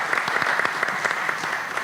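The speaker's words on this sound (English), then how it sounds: "Another round of applause, please." Audience at a school board meeting applauds steadily, a dense wash of clapping that fills the whole moment with no voices over it.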